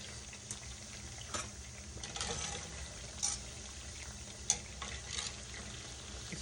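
Dumplings frying in hot grease in a pan on a stove set to 8, a steady soft sizzle with faint crackles and occasional brief clinks of flipping, no voices.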